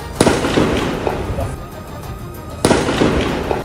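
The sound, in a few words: loud gunfire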